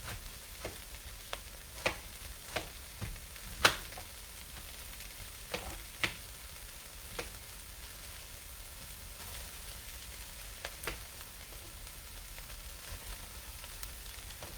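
Cabbage with bacon bits sizzles steadily as it cooks down in a pan, a constant crackling frying hiss with occasional sharper pops and ticks from stirring, close up and with no voices.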